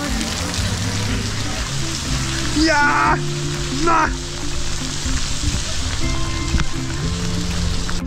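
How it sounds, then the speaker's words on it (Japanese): Heavy rain pours steadily during an off-road motorcycle tour in Colombia, a dense constant hiss throughout, with a voice speaking briefly over it. "雨がどんどんひどくなってってます。"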